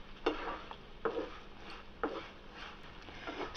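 Vermicelli cooked with jaggery in a pan for sweet laddus is stirred steadily, with soft scraping strokes about once a second over a faint sizzle.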